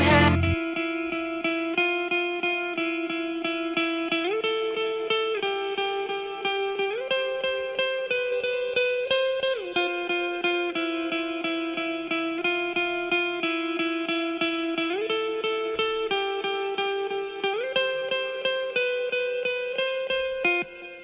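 Electric guitar played through an STL Tone Hub with wide stereo reverb, carrying the chorus of a sad ballad: a steady, evenly picked repeating note pattern over slowly shifting chords, sustained and alone for about twenty seconds.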